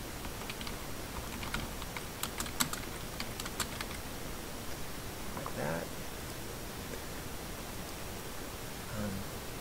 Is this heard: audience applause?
no